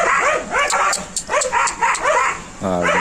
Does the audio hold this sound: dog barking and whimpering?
yes